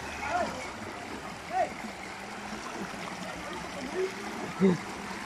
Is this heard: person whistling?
no